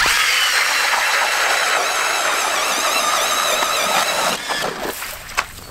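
StrikeMaster Lithium 24v electric ice auger with a Lite-Flite bit boring through nine inches of ice, a loud steady high-pitched motor whine with grinding texture that breaks off near the end as the bit punches through.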